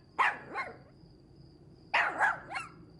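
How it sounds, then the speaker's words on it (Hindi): A dog barks close by in two bursts, a pair of sharp barks followed after a pause by three more, loud against a quiet background. "कुत्ता नजर आ रहा तुम्हें?"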